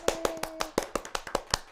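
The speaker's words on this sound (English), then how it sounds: "Round of applause," A few people clap in response to a call for applause for singer Kara J, giving about ten sharp, separate claps in an uneven rhythm, close by and fairly loud, with a faint sustained tone under the first claps.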